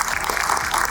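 Live fitness event audience applauding its speakers, a dense continuous patter of many hands clapping close by for about a second.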